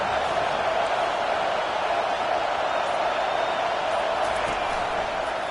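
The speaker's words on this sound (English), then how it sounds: "Listen to this crowd just shaking the girders of this place, trying to help their defense." Football stadium crowd roaring in support of the home defense, a dense sustained wall of cheering noise that stays loud and even throughout.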